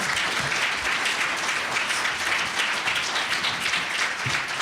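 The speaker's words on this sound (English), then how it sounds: "can we give our panel another great round of applause?" Conference audience applauding a panel: a dense, sustained round of clapping that holds steady throughout, with no voices over it.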